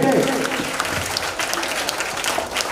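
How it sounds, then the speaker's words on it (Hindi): Children at a school Guruparv gathering burst into brief loud applause, a dense patter of many hands heard up close over a couple of seconds, with a voice briefly at the start. "जोरदार तालियों के साथ स्वागत करें सभी बच्चे"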